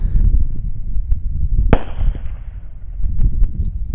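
A single sharp .223 rifle shot fired at a wild boar at night, one loud crack midway that rings out and decays, set against low outdoor rumble and noise.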